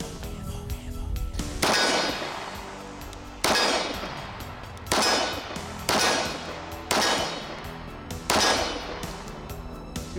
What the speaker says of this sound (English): All right, shoot some more. Single hand fire.